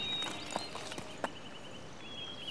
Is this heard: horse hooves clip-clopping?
yes